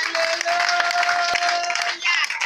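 Congregation applauding during a church service, a dense wash of clapping filling the space for a couple of seconds, with a sustained tone and voices mixed underneath.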